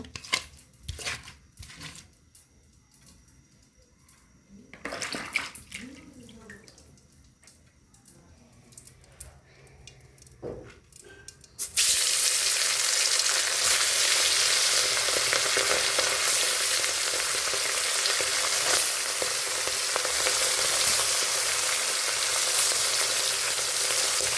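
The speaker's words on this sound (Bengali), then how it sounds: "এই জন্য মাছটা হাতে মেখে নিচ্ছি, এখন ভাজি করব।" Small fish frying in hot oil, a loud steady sizzle that starts abruptly partway through after a quieter stretch of handling sounds and continues dense and close to the end.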